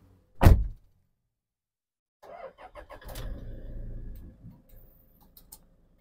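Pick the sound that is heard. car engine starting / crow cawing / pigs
car engine starting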